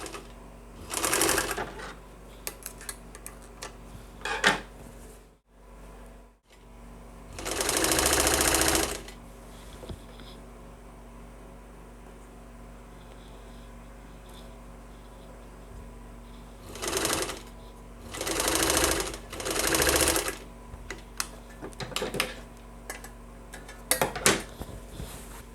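A sewing machine stitches fabric for an off-shoulder circle gown in several loud, fast-rattling bursts of a few seconds each, separated by quiet pauses with small handling clicks and no talking.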